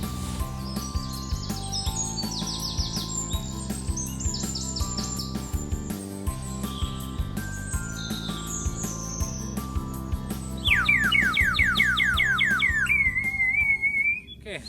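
A chestnut-sided warbler sings bright, repeated phrases on forest land in Vilas County, among other birdsong and buzzing insects, with a fast trilling series rising near the end.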